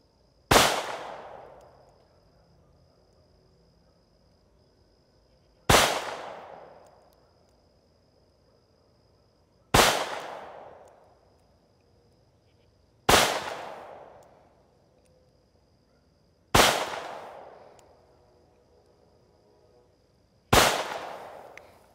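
Six single shots from a Taurus 856 revolver fired at a target about 13 to 14 yards away, each loud sharp crack evenly spaced roughly every four seconds with a decaying ring, and no talking between them.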